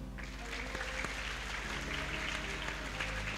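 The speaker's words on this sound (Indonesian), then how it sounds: "Tepuk tangan." An audience at a school Ramadan gathering claps in a sustained, even wash of applause that continues for a few seconds.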